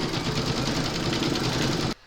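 Embroidery machine sewing a satin stitch on an owl applique design, a fast steady rhythmic needle chatter that cuts off abruptly near the end.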